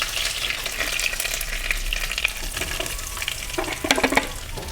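Curry leaves and soaked taro root sizzle in hot oil in a pan, a steady close crackle with no talk and a few utensil clinks near the end.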